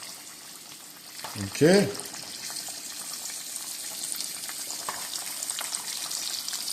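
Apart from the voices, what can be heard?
chicken pieces frying skin-down in pan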